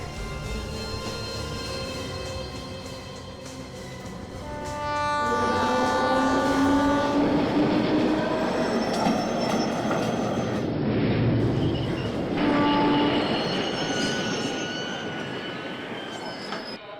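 A train rumbles through a station with screeching, squealing wheels, growing loud and staying close for most of the stretch before easing slightly, with no voices over it.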